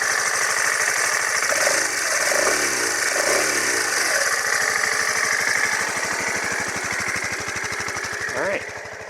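Suzuki VanVan motorcycle idling, a steady rapid single-cylinder chug with a constant mechanical rattle, close and loud, the rhythm wavering slightly as the revs settle near the end.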